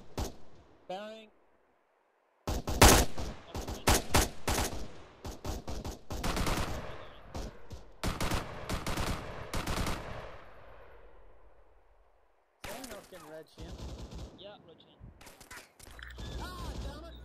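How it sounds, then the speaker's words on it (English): Heavy machine gun fire in the Arma 3 military game, rapid loud bursts that crackle and echo and repeat in several long strings with short gaps, with players talking during the firing. "Guys, I think that's a heavy MG."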